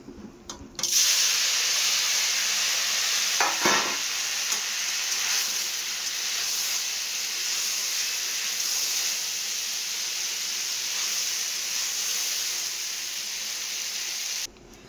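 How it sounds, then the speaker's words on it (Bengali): Pieces of paneer fry in hot oil with turmeric in a kadai, producing a loud, continuous hiss and sizzle that starts abruptly and holds steady for about fourteen seconds. "পনিরগুলো ভেজে তুলে নিয়েছি"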